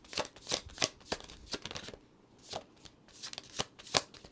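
Tarot cards being shuffled by hand, a run of crisp riffling bursts and soft flutters with short pauses between them, close and fairly quiet with no talking.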